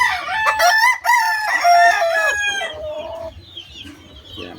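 A green-legged gamecock rooster, about ten to eleven months old, crows loudly and close, a long cock-a-doodle call, then trails off into a few quieter clucks.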